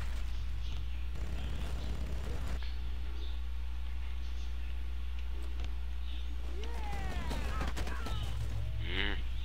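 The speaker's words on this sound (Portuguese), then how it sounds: "Pelo menos acertei um tiro nela." Gunfire from a shooting video game crackles in short bursts across a busy game soundscape, with a player's voice talking over it and other electronic effects mixed in.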